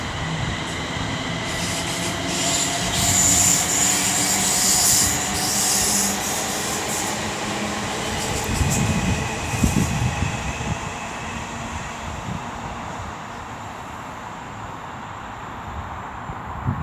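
Trains pass through Milton Keynes Central on the West Coast Main Line, a loud steady rumble of rail wagons with high metallic wheel squeal and hiss rising and falling over the whole stretch.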